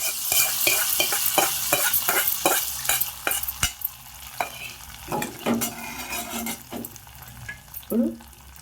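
Hot tempering is poured into a dal made with raw mango and dried red chillies. It gives a loud sizzle that fades, with sharp metal clinks of a ladle or spoon stirring against the pot.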